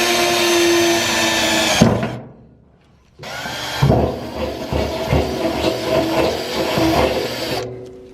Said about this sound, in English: We've got it marked out. We're gonna drill it